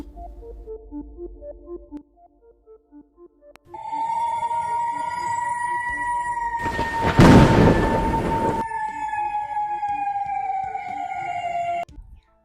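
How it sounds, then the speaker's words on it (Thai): A steady, eerie electronic howl, the ghost howling of Wat Suthat in Bangkok, holds a wavering tone over a low drone, with a burst of rumbling noise in the middle before the howl fades. "นี่คือเสียงของวิญญาณที่ต้องทนทุกทรมาน"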